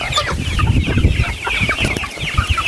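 Pet chickens cluck busily at feeding time in their coop, a close, dense chorus of overlapping clucks and squawks that carries on without pause.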